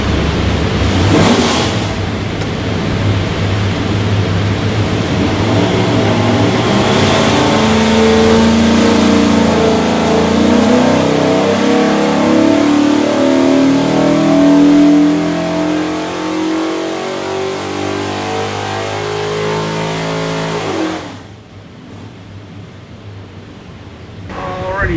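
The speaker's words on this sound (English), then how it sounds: "Go in there and make a run, see what she does." A 363ci small block Ford V8 built for a GT40 replica roars steadily under load on an engine dyno, the loud pull sustained for about twenty seconds before cutting off abruptly and dropping to a quieter idle.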